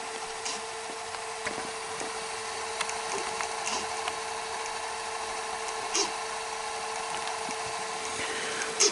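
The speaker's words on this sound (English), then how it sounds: "we can fast forward it all the way to the ending" A Sony SLV-R5UC SVHS VCR fast-forwarding a tape gives a steady mechanical whir with a constant tone, small clicks and ticks scattered through it, heard close and alone.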